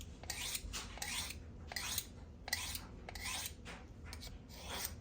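A kitchen knife drawn along an abrasive sharpening steel in repeated rasping strokes, about seven passes in steady rhythm, each a bright gritty scrape close to the ear with brief pauses between.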